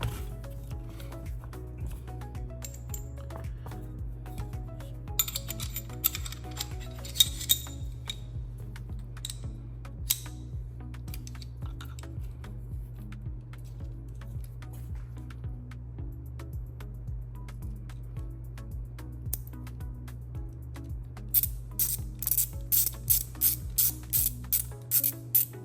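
Small metallic clicks, snaps and ratcheting as a Canik Prime pistol is assembled with a red dot sight and slide, scattered close clicks over a low steady hum, with a quick run of clicks near the end.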